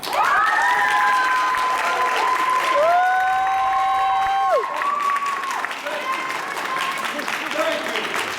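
Audience applause at a courtroom-themed stage musical, steady clapping from a crowd that carries under sustained sung or spoken voices and fades slightly toward the end.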